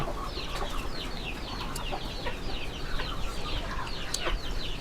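Chickens, including a rooster, cluck and chatter steadily at moderate distance, with scattered short calls over a constant low background hum of a farmyard.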